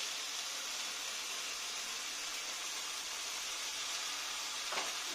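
Tomato paste frying with spices in a pan for chicken kofta, a steady soft sizzle and hiss throughout with a faint stir near the end.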